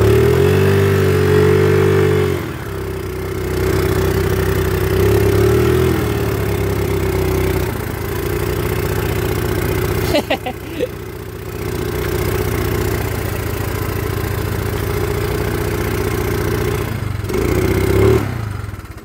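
A motorcycle engine running on a grassy field, a loud steady drone that dips and rises with throttle changes and brief gaps, close to the listener, with no talking.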